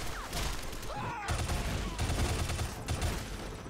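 Gunfire in the action game Shadow Complex, rapid bursts of shots and heavy impacts crackling over a loud, dense backdrop of effects, with a voice briefly calling out near the start.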